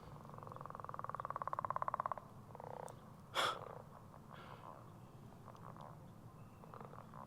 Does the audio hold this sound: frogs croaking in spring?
yes